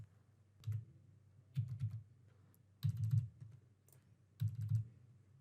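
Computer keyboard keys typed in four short bursts of clicks with brief pauses between, entering test credit card details, close and fairly quiet with no talking.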